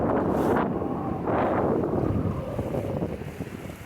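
Wind buffeting the microphone aboard a sailboat in rough open water between Martinique and Dominica, gusting roughly in surges with rushing noise and the wash of big waves.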